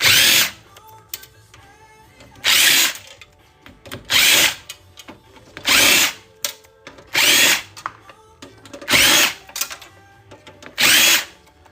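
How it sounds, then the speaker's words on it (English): A power drill whirs in short bursts, six or seven, each a couple of seconds long with brief pauses between, as it backs screws out of an old HP Pavilion computer during e-waste scrapping. The sound is loud and close with faint clatter in the gaps. "let's start by removing as many screws as we can here."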